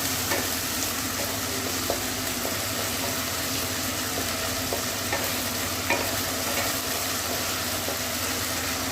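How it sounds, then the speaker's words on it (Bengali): Garlic and ginger paste fries in hot oil for a mutton curry, a steady dense sizzle with soft scraping stir strokes recurring every second or so, close and continuous throughout. "রসুন আদাটা ভালোভাবে মিশিয়ে নিচ্ছি, ভালো করে ভেজে নিচ্ছি"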